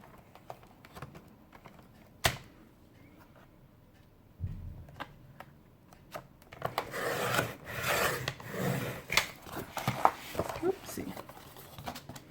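Scissors snip and rasp through a used paper gift bag, cutting it into four pieces for junk journal crafting, with close rustling and crinkling of the bag in an otherwise quiet room.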